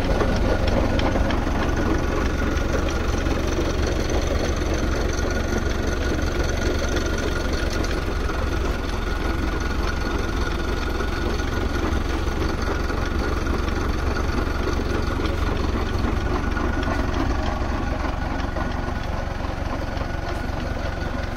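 A tractor engine drives a rotavator cultivator during a field demonstration, its steady low rumble and mechanical clatter running continuously at constant loudness with no talking.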